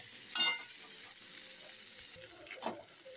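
Potatoes tipped into a hot pan, giving a soft, steady sizzle with a few clinks and scrapes of stirring, close and fairly quiet.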